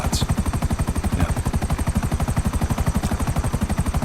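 Helicopter rotor in GTA 5, a fast, steady chopping pulse held loud and close throughout, with no speech.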